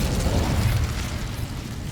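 Incendio fire spell from the Hogwarts Legacy video game, a dense roaring flame burst with heavy low rumble that holds steady then slowly eases, no voices.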